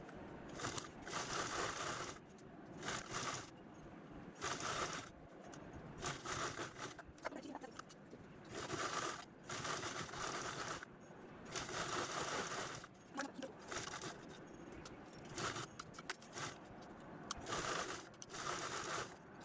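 A sewing machine stitches along the edges of fabric in repeated bursts of rapid whirring, with short pauses between runs. It sounds close but fairly quiet.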